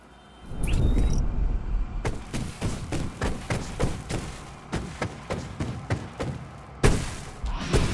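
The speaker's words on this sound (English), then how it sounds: "Lots of fireworks here." Fireworks in the video game Alan Wake Remastered go off as a rapid string of sharp bangs and thumps. A few louder crackling bursts stand out among them, and no one speaks.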